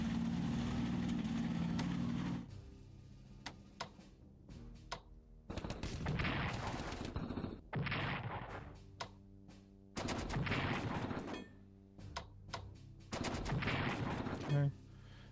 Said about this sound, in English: Badly shooting up that tank unit.